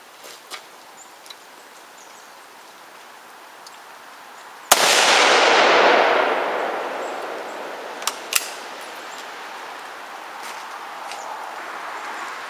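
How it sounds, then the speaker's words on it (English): A Mosin-Nagant 7.62x54 rifle fired at a WWI US doughboy helmet: one sharp, loud outdoor shot with a long rolling echo that fades over several seconds, followed by a few faint clicks and thumps. "Alright, let's see what the Mosin-Nagant will do."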